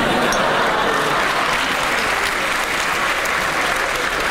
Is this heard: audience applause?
yes